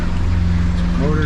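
An outboard motorboat engine revs up steadily, its low droning hum rising in pitch toward the end, close and loud, with a voice speaking over it.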